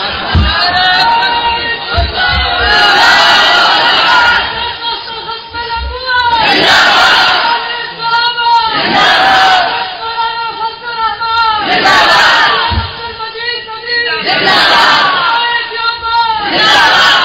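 A large crowd at an Urdu-language religious gathering chants slogans in loud, rhythmic bursts that repeat every couple of seconds. The massed voices are close and dense, with no single speaker standing out.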